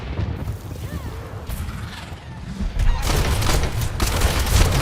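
Rapid strafing gunfire from a Diablo III skill in the video game, a dense dry rattle of shots with booming hits, running steadily throughout and growing louder near the end amid other game effects.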